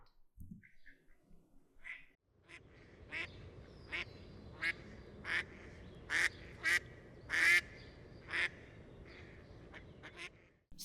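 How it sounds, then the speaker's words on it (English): Mallard duck quacking in a wetland, a series of about eight loud, sharp quacks at irregular intervals over a faint, hissy background. "That quack is a mallard."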